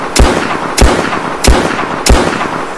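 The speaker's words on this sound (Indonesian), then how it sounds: "Poluan Ann Lewis melatih menembak bersama bintara lainnya" Four loud, evenly spaced gunshots ring out at about two-thirds of a second apart during shooting practice in the Robocop film, each a sharp crack with a short echoing tail.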